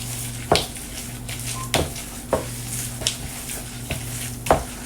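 A handful of chocolate chips is mixed into a dairy-free dough, with a steady background hum and several distinct periodic scraping knocks of a utensil against the bowl, no voices.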